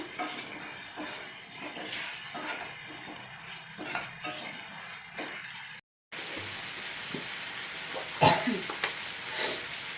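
Ginger garlic paste sizzles and crackles in a hot pan with soft stirring scrapes, a steady frying hiss and one sharp clink of metal.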